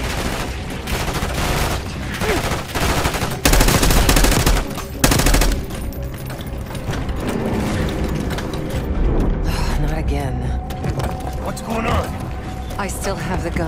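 Rapid automatic gunfire in Call of Duty Black Ops 6 during a final boss fight, loud dense bursts with heavy booms and mechanical clatter, a voice talking over the action.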